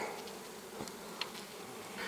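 Honey bees buzzing in a continuous, close drone around a swarm hive, with individual insects briefly swelling louder as they pass near.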